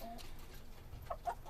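Backyard chickens on a small three-acre homestead cluck softly at feeding time, a few faint, scattered clucks heard close but quiet with no talking.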